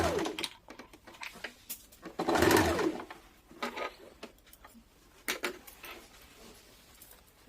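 A domestic sewing machine stitches the side seams of a child's umbrella frock in short, quiet bursts, pausing between runs, with occasional soft clicks and handling noise.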